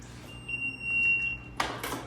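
A Level One rapid infuser's control panel sounds a high, steady electronic alarm tone running through most of the clip, with a brief clatter of handling noise near the end.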